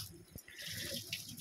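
Rice with moong dal and toor dal is rinsed in water, giving a brief, faint slosh and trickle with a soft knock near the start.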